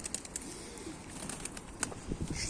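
Young posta-breed tumbler pigeons coo softly in a loft, with short chirpy calls and a brief flutter near the end, fairly quiet against a faint background hiss.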